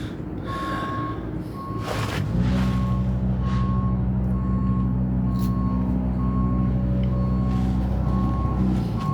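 A truck reversing near roadwork, its repeating electronic backup beeps sounding at an even pace over a loud low diesel rumble that rises as it gets closer.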